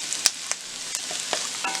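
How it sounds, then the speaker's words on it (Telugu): Sliced onions and green chilies frying in hot oil, a close continuous sizzle broken by several sharp spatula scrapes and clinks at an uneven pace. "ఇందులో ఒక 3 పచ్చిమిర్చి వేసుకొని ఫ్రై చేసుకోవాలి."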